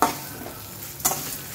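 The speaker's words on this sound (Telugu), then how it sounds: "కొంచెం మినపప్పు ఎరడాలుగా వచ్చేంత వరకు వేయించుకున్నామండి." Urad dal frying in a pan while being stirred: a steady low sizzle with scraping stir strokes, louder at the start and again briefly near the end, no talking.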